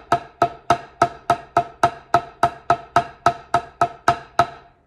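A drum pattern is played evenly at one loud volume with no dynamics: about fifteen sharp, identical hits in a steady, rapid pulse, close and with nothing else in the background.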